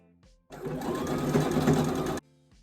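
A serger overlocks the sleeve and dress hems in one steady, close, rapid mechanical whir of under two seconds, starting and stopping abruptly between quiet pauses.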